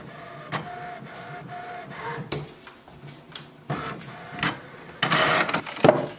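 An HP Envy 6010e inkjet printer prints an alignment page, giving bursts of mechanical whirring, clicks and sliding carriage sweeps at close range, fairly quiet, with louder feed noises near the end.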